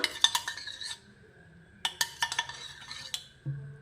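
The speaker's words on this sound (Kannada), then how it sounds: "ಚೆನ್ನಾಗಿ ತಿರ್ಕೋಣ, ಕೈ ಆಡಿಸೋಣ" A metal spoon stirs kesari bath in a pan, giving two bursts of clinking and scraping against the pan with a short pause between them. The sounds are close and fairly quiet, with no talking.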